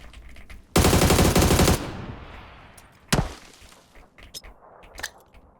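Gunfire from across the map in PUBG: a loud, sustained automatic burst lasting about a second, then a ringing decay, followed by a single sharp shot and a few fainter distant cracks.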